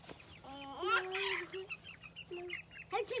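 Chickens cluck and squawk nearby in short bursts, with one drawn-out call, in a quiet setting.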